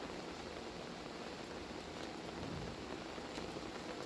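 Rain falls on plants and a farm field with mango trees, a soft, even, continuous hiss of drops, distant and quiet, with no voices.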